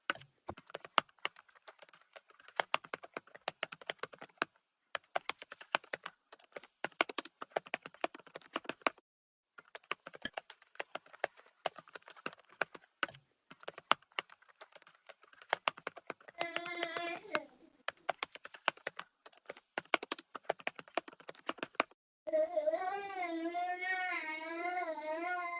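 Rapid clicking keystrokes on a computer keyboard as a username and password are entered during Wi-Fi setup, coming in bursts with short pauses, followed near the end by a cat's meow and a sustained whining cry.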